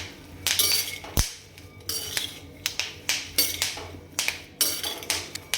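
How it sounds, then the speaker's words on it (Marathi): Peanuts dry-roast in a metal pan, giving a string of sharp clinks and rattles. The scraping, tapping bursts come close and irregular, one with a hard knock, over a low steady background. "शेंगदाण्यामधून असा काही आवाज यायला लागला की समजून जायचं की शेंगदाणे आपले छान असे भाजले गेलेले आहे"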